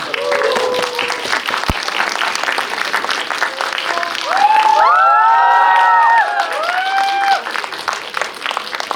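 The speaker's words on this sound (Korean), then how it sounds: "큰 박수로 맞이하겠습니다" A film-screening audience at a Q&A for the Korean film Dead Man applauds and cheers as the director and actors come on stage, loud dense clapping with high excited shrieks and whoops rising in the middle.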